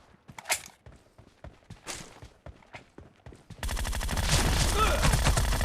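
Assault rifle fire in the mobile shooter game PUBG Mobile comes as sharp separate shots with short gaps, then changes to a dense, loud burst of automatic fire with game sounds mixed in.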